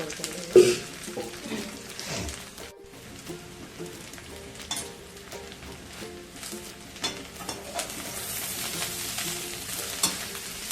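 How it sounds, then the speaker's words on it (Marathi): Onions stir-fried in plenty of oil for kanda lasun masala sizzle steadily throughout, with scraping stirs and occasional clinks of a spoon against the pan, close and continuous with no talking. "हा कांदा आहे ना चांगला लाल होईपर्यंत परतायचा आहे"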